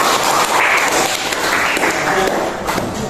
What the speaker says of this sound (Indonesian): Tepuk tangan untuk Mas Anggoro